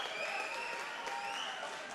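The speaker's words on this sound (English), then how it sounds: "please put a round of applause together for both of the fighters in this cage" Fight fans in a cage-fighting arena applauding both fighters, a continuous dense patter of clapping and crowd noise, moderately distant and steady.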